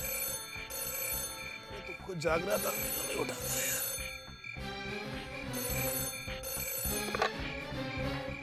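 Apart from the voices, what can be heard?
mobile phone ringing at night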